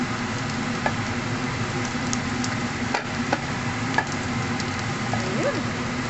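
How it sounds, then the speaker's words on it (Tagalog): Corn soup cooking in a pot, a steady bubbling sizzle with faint clicks and light stirring scrapes, continuous and even throughout. "Magluto tayo ng corn soup."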